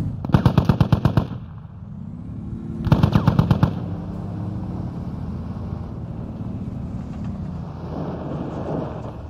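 A vehicle-mounted machine gun in the game Squad is test-fired in two loud, rapid bursts of about a second each, with a steady engine drone running underneath and continuing after the shooting stops.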